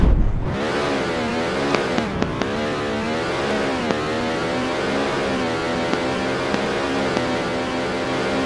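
An engine in the Roblox game Jailbreak cranks and fires up, then settles into a steady revving drone with faint clicks, loud and close, with a synthetic, game-like quality.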